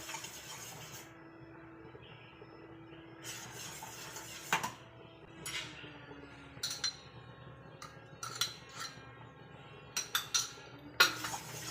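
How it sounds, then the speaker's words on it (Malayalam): A spoon stirs butter into a thickened cornflour coffee pudding mix in a pan, giving soft scrapes and sparse, faint clinks against the pan in a quiet room. "ബട്ടർ ചേർത്ത് കൊടുത്തതിന് ശേഷം നല്ലതുപോലെ ഒന്ന് ഇളക്കി കൊടുക്കുക"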